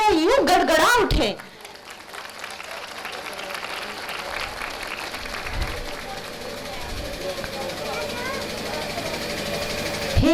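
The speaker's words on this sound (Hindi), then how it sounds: "इनको देख के तो वैसे ही तालियां यूं गड़गड़ा उठे।" A school annual day function audience breaks into applause that continues as a broad, steady clapping wash after a sharp, loud musical burst at the start, with speech mixed in.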